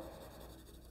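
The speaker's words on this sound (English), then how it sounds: "maybe I want to add a little bit of shading with my colored pencil" Colored pencil shading across paper during a children's art lesson, a steady soft scratchy rasp lasting about a second at close range, faint and uninterrupted, with no talking.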